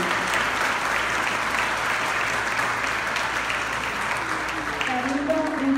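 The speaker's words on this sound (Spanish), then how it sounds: "un aplauso, por favor, para el Cabildo" Sustained enthusiastic applause from an audience at a celebration for a children's council, dense steady clapping close and loud throughout with crowd noise mixed in.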